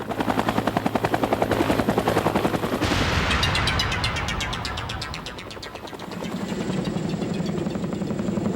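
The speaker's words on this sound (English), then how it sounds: "another helicopter touches down" A helicopter landing during a flood, its rotor thumping rapidly and loudly with a whining engine, the beat shifting as it passes and settling back into a steady chop.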